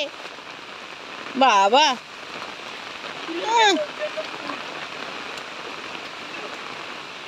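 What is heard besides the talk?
rain falling heavily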